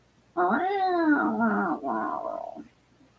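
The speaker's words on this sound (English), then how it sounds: "I got two cats outside my window here" A cat outside a window yowls in a long, wavering, drawn-out cry that rises and falls, heard fairly clearly against a quiet background.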